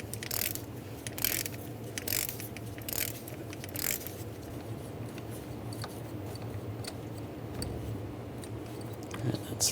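An 8mm socket on a ratchet loosens a bolt during a thermostat replacement on a 2006-2009 Mercedes-Benz E350, giving close, steady rapid clicking from the pawl along with scraping mechanical handling noise.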